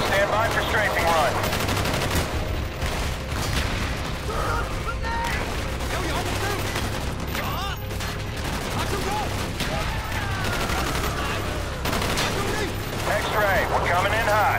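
Continuous heavy gunfire and machine-gun bursts from a strafing run in Call of Duty: Black Ops on Xbox 360 pound without a break, with radio voices and battle noise layered over the barrage.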